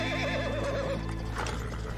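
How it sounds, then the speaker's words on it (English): A horse whinnies loudly in Red Dead Redemption 2, a wavering neigh followed by a few hoof clops, close by over a steady background hum. "He has a horse following him."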